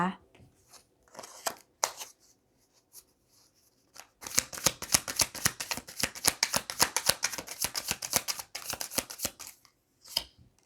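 Tarot cards shuffled by hand: a few scattered flicks and riffles at first, then a long dense run of quick card slaps and riffles, close-up, with someone speaking softly near the start.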